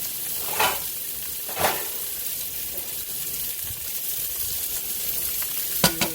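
Steaks sizzle steadily in a frying pan, a continuous crackling hiss broken by a few sharp clanks and scrapes of a utensil against the pan.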